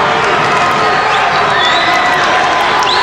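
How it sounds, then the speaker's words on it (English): A basketball crowd erupts after a dunk, a dense, loud, sustained roar of cheering and shouting that fills the arena without a break. "And the crowd goes cuckoo."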